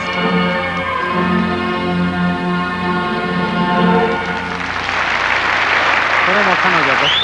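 An arena crowd at a 1984 junior world figure skating exhibition in Tokyo breaks into applause as a sustained music chord fades, the clapping swelling into a broad roar in the final seconds.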